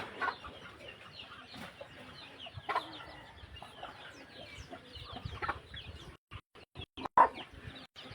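Chickens on a family farm cluck and chatter in a steady busy mix at close range, with a few louder squawks rising above the flock and no talk over it.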